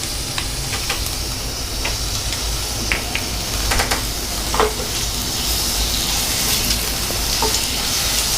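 Ginger garlic paste sautés in a pan for a mutton fry, giving a steady, close sizzle and hiss. Occasional scraping stirs and small ticks of the utensil break through the constant frying, and nobody speaks.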